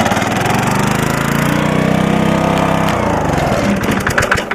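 An old engine bought at an antique power auction runs steadily with a loud, even, chugging putter and a rapid mechanical beat that holds throughout, close by.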